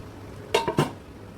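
A metal lid set down over a pan of frying chicken gives a few quick clattering knocks in a quiet kitchen, with no talk.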